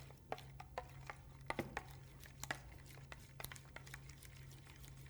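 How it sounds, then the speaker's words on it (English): Quiet stirring of ingredients in a bowl, with scattered light taps, clicks and scrapes of a utensil against the sides at an irregular pace over a low steady hum. "So let's stir it up. Stirring it up all together."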